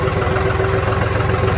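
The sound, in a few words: John Deere 5103 tractor engine idling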